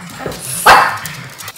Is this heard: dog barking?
yes